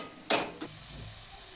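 Chopped onions fry in a pan, two quick bursts of sizzle and stirring up close, then settle into a soft, constant hiss.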